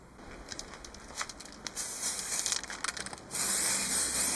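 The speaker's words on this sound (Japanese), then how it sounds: "ガソリンタンク塗装します。" Aerosol spray can hissing as smoke blue-grey paint goes onto the fuel tank of a Yamaha YB-1 two-stroke moped, in short close bursts that build to a steady, louder spray near the end.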